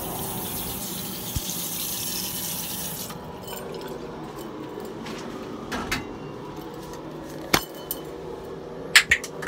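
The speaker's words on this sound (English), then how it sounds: "So I run some hot water," Hot water runs from a bathroom tap in a steady hiss for a few seconds, then cuts off, followed by scattered clinks and knocks near a sink.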